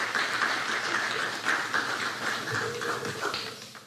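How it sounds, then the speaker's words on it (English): Applause from an audience at a gathering in honour of a Haitian clinic worker fills the whole stretch, a dense, steady patter of many hands clapping at moderate volume. "Applaudissez Madame Elie, s'il vous plaît."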